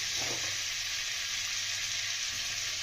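Chicken momos frying in butter in a wok give an even, unbroken hiss of sizzling, close and steady throughout, with a faint stir near the start and no voices.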